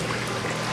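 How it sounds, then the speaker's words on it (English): Water trickles and splashes steadily into an external aquaponics siphon, a continuous close wet hiss with no talk over it. "It's starting to drip in here a little bit."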